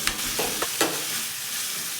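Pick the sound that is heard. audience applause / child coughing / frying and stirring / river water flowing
frying and stirring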